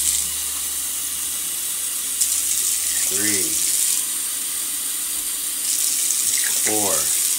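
Tap water gushes steadily into a cooking pot as it is filled to boil rice, a loud continuous close stream with brief clinks partway through.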